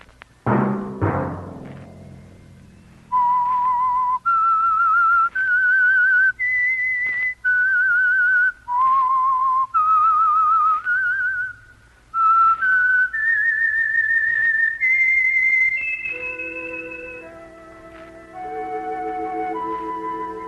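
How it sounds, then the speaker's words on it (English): A lone whistler performs a radio mystery program's eerie theme tune, with clear sustained notes stepping up and down over about twenty seconds. Low orchestral chords come in near the end. "Let that whistle be your signal for the Signal Oil program, The Whistler"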